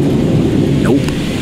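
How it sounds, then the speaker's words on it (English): Thunderstorm with rain, a low continuous rumble and wash of rain filling the moment, loud and close, without anyone speaking. "it's been raining and lightning"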